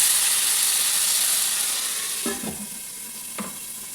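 Chopped tomatoes sizzle and fry in a pan over onions, a steady loud hiss that fades slightly, with a few brief scraping stirs of a utensil near the end.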